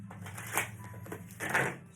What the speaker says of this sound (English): Shuffle number 1.